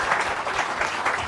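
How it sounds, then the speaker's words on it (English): Short burst of audience applause at a business seminar, a second or so of dense, moderately loud clapping. "Give them a big round of applause"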